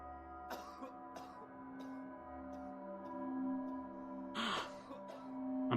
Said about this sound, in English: I'm coughing up blood.